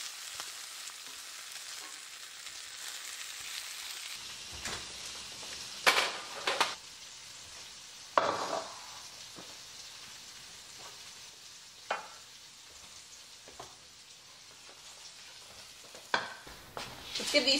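Frozen peppers sauté in a pan, with a quiet background sizzle broken by occasional louder scrapes and clatters of a utensil stirring, spaced irregularly and close by.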